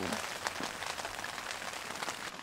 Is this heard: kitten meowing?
no